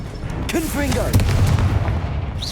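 Confringo explosive spell cast in Hogwarts Legacy: a deep, rumbling blast with a short crackling burst, mixed with whooshing, chirping spell effects during combat.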